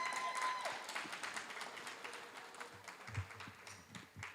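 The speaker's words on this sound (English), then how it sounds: "could you please give a round of applause to the support that was here for you?" Graduates and guests at a medical assistant graduation clap together, a modest round of applause heard at a distance, with low murmurs and thumps underneath.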